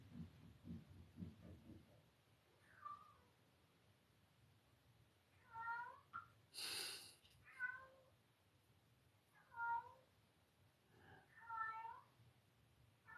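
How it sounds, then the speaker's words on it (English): A house cat meows loudly several times in separate calls, near and clear, with a burst of noise in the middle and faint background sound around it. "My cat is meowing very loudly."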